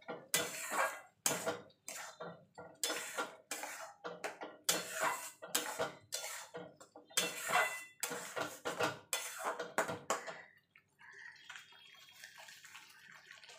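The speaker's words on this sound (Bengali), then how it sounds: "এবার এইগুলো ভালো করে মিশিয়ে নেব।" Ridge gourd paste is mixed with Kashmiri chilli powder in a bowl, making rhythmic close scraping and squelching strokes, about a dozen in quick succession, before the sound drops to a faint quiet clatter.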